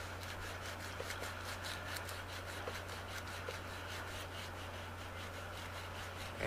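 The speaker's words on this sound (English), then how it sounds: "Now, after all the draw filing, I do a little sanding." Sandpaper of 220 grit rubbing steadily across a brass clock plate for a grasshopper clock, a continuous close scratchy swishing in repeated back-and-forth strokes under a steady low hum.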